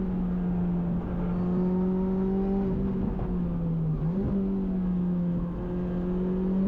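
Steady engine drone from a 2007 Lotus Exige S220 lapping a track, holding a constant note with slight pitch dips and swells, loud and close throughout with no talking.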